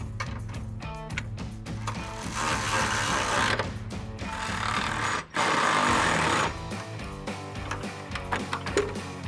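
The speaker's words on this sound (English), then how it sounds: "We're going to take a 16 millimeter socket and a ratchet and tighten them down." Ratchet with a 16 mm socket tightening bracket bolts for Ranger 6-inch iStep running boards, a busy run of dense rapid clicking and metallic working noise with a short gap midway, close and fairly loud.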